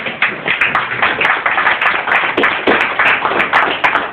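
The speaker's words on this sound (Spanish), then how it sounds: "Den un aplauso al Rey en esta mañana." A church congregation claps together during a Spanish-language service, a dense, steady patter of many hands filling the room, close and fairly loud, with no talking over it.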